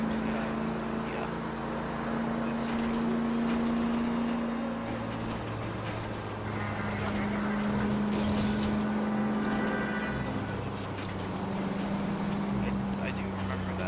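Car driving in L.A. Noire, a steady engine drone with shifting tonal hum as it changes speed, continuous and fairly loud under a talking voice.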